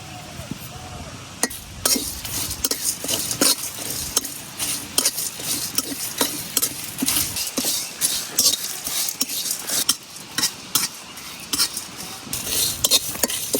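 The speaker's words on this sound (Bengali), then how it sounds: "প্রথমে দিয়ে দিতেছি তেজপাতা, জিরা আর কিছু আস্ত গরম মশলা। এখন সব কিছু একটু ভাজা নিয়াম।" Bay leaf, cumin and whole garam masala fry dry in a pan for a sour-sweet plum pickle spice mix, with a utensil stirring and clinking against the metal over a faint sizzle, close up.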